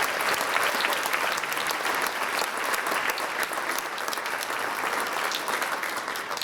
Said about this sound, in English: let's give another round of applause for percussion